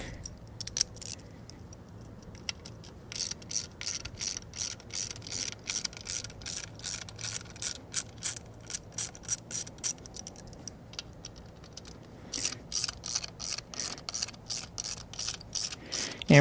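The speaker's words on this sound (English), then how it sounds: "we're going to separate the motor from the regulator with a T25." A T25 Torx bit in a ratcheting tool separates the rear door power window motor from the regulator on a Toyota Camry, with rapid, steady ratchet clicks in close bursts and brief pauses between them.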